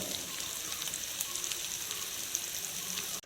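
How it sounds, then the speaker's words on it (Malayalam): Squid pieces fry in hot oil in a pan for a toddy-shop style dry fry, giving a steady, close sizzle and crackle that runs unbroken for about three seconds with no voices. "ഇതേപോലെ തിരിച്ചും മറിച്ചൊക്കെ കണവ പീസ് ഇട്ട് നമുക്കൊന്ന് ഫ്രൈ ചെയ്തെടുക്കാവുന്നതാണ്"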